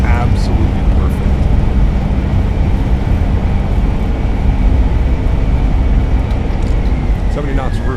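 Airliner thrust reversers in Microsoft Flight Simulator roar loud and unbroken through the landing rollout at San Diego, a broad rumbling wash with no letup. Cockpit voices call out over the noise.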